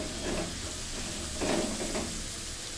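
A coriander chutney mixture in a pan on the stove sizzles steadily at close range, swelling briefly as it is stirred and turned.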